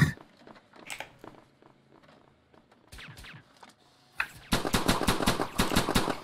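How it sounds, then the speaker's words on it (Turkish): Gunfire in the video game Perfect Heist: scattered single shots early on, then a rapid burst of loud, evenly spaced automatic fire toward the end. "bu silah yavaş sıkıyor ya"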